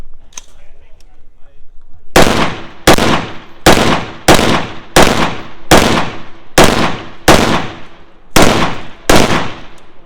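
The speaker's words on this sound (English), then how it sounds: "The pistol shooting, you had to be on." Pistol shots fired fast at targets during a vehicle ambush stage of a practical shooting match, about eleven loud sharp cracks in a quick, slightly uneven rhythm after a quiet start.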